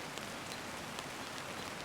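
Steady rain patters down outside a popup tent during car camping, a dense, even hiss of drops on surfaces with a few louder taps, continuous and close with no voices.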